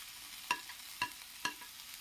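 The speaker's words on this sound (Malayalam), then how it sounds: "കോവയ്ക്കയും കൂടെ ചേർത്തിട്ട് നമുക്ക് നല്ലതുപോലെ ഒന്ന് ഇളക്കി കൊടുക്കണേ." Ivy gourd (tindora) tossed in a frying pan, with three sharp scraping stir strokes spaced about half a second apart over a faint steady sizzle, close and fairly quiet.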